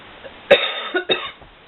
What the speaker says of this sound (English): Just had like this really bad cough for maybe a month.